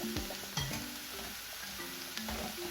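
One spoon of ginger garlic paste frying in a pan for fish pollichathu, a quiet sizzle with a few scraping stirs and faint clinks, brief and with no voices.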